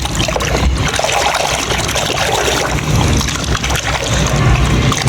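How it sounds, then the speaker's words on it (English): Toy car being washed in water, a steady, loud splashing and sloshing that runs continuously with no pauses, close up and without speech. "Let's pick the first toy and wash it and see what inside them."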